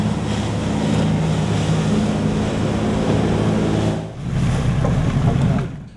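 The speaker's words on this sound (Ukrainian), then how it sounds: "З борту судна розмагнічування «Балта» опускають на воду швидкісний катер з доглядовою командою" Speedboat being lowered onto the water from the degaussing ship Balta, a loud, steady engine and water rush with wind noise, briefly dipping before resuming strongly.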